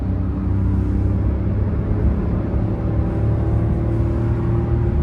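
A 2024 Maruti Dzire with a three-cylinder engine hums and rumbles steadily while driving, a low continuous drone with faint engine rattle underneath, close and moderately loud.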